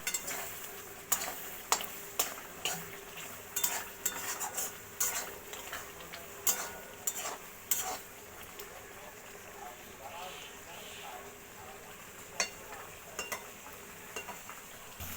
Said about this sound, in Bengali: এবার আলুগুলো দিয়ে আমি ভালো করে আরেকটু কষিয়ে নেব।